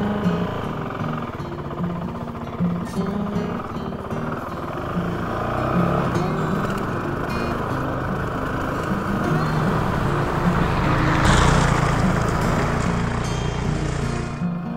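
An ATV engine drones steadily on a trail along the Sheltowee Trace in Kentucky, a continuous mid-level motor hum with rattling and wind, rising slightly toward the end.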